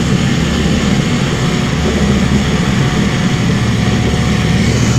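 A propeller bomber's engines drone steadily and loudly in IL-2 Cliffs of Dover, a constant close-up roar with no breaks and no voices.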